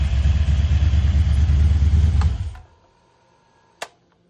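A JMac Performance 350 engine idles near 900 RPM during its break-in run, a loud, steady, close rumble that cuts off abruptly after about two and a half seconds, followed by quiet and one faint click.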